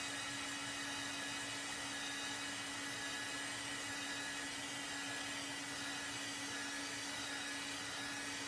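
A craft heat dryer blows steadily while drying chalk paste on a wooden sign, a continuous even whir with a faint steady hum, close and constant with no pauses.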